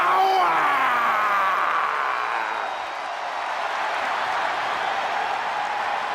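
A WWE arena crowd applauds the longest reigning tag team champions, a broad wash of clapping and cheering that swells at the start and then holds steady at a slightly lower level.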